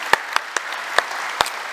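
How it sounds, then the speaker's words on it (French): Audience applause after morning talks at a conference on generative experiences, a brief patter of scattered claps with a few sharper individual hits, fairly close and without voices. "Franchement, je pense qu'on peut vous applaudir."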